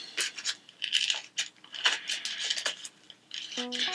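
Repeated crisp snips and rustles of dull scissors cutting torn outerwear fabric, close and fairly loud, in an uneven rhythm.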